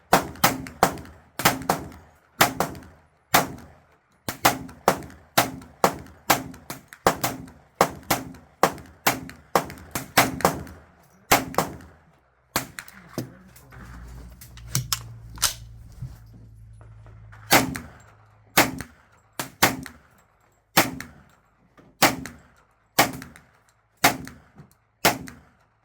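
Pistol-caliber 10mm CMMG Banshee and Grand Power Stribog fired outdoors, loud sharp shots in quick irregular strings, with pauses and a brief low rumble partway through, close by and without talking.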